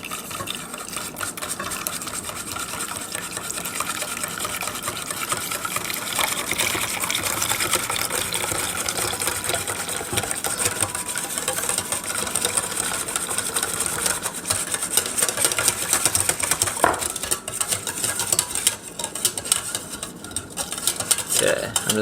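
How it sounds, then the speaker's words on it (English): Egg yolks stirred by hand into a cooled coffee jello mixture, a steady scraping swirl of utensil against bowl that runs continuously at close range, with a faint voice now and then underneath. "I'm just going to slightly stir this, get it all integrated"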